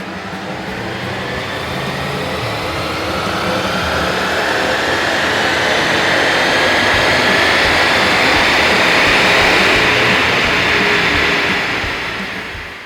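A Ford Focus ST engine revs on a dyno in one long, loud, rising roar that swells to a sustained peak near the end, then starts to fall away. The sound is heavy and broadband, with no voices over it.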